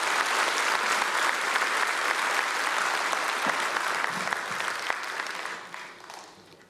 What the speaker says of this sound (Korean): 다시 한번 찬양대와 오늘 찬양한 사람들을 위해서 뜨거운 박수로 격려해 주시기 바랍니다.